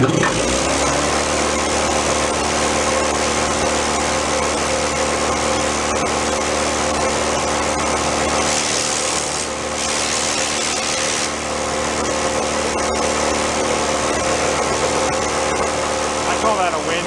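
Junk air compressor running with air blowing out one side, a loud steady mechanical drone with a constant hiss of escaping air and brief dips in the noise midway through.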